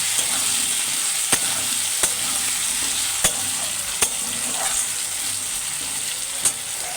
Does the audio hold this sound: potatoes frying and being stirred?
yes